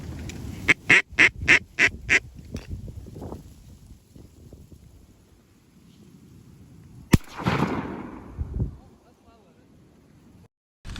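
Ducks on a hunt quack in a quick burst of sharp calls, followed by a loud crack like a shotgun blast and a noisy splash or flurry, with faint outdoor background between.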